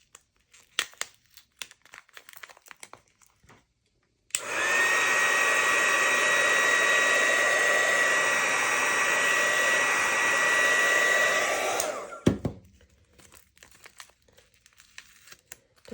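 Heat gun warming plastic packaging runs as a steady, loud, broadband roar for about eight seconds, switched on abruptly and cut off sharply, with faint handling rustles before and after.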